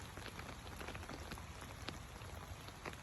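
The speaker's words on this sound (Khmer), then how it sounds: "នេះនាំបងប្អូនមកមើលសភាពពេលមេឃភ្លៀងបាទ" Steady rain falls on ripe red mango trees at an orchard in Kampong Thom province, Cambodia, a continuous close hiss with scattered drips and patters.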